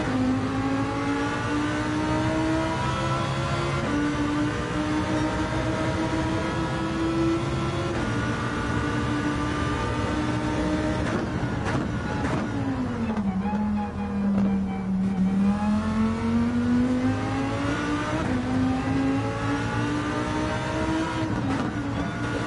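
A Yamaha R1 motorcycle lapping Laguna Seca, its engine loud and close throughout, pitch climbing through the gears, dropping on a lift off the throttle, then rising again.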